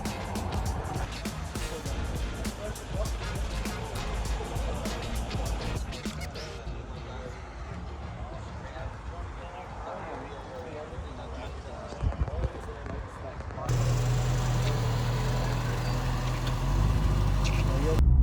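A convoy of about 20 Ford Mustangs drives along together at a 60th anniversary celebration, engines droning steadily with road noise, the rumble growing louder and deeper near the end.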